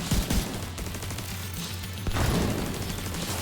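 Sustained automatic gunfire from a FAMAS rifle in Division 2, a dense continuous rattle of shots with a heavier impact or burst near the middle, loud and steady throughout with no voices.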